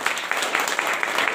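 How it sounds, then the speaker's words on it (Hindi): An audience claps loudly to give a warm welcome at a program, a dense patter of many hands with irregular sharp peaks for just over a second. "जोरदार जोरदार जोरदार हाथ ताली से स्वागत।"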